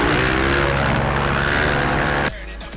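Supermotard motorcycles racing, heard from an onboard camera, with a loud continuous engine roar and wind buffeting up close that abruptly drops off near the end.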